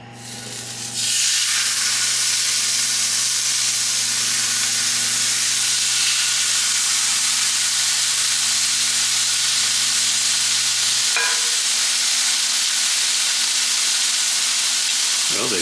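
Japanese A5 Wagyu steaks laid into a screaming-hot cast iron skillet, bursting into a loud, dense, continuous sizzle that holds steady after the initial hit, with a low electrical hum underneath.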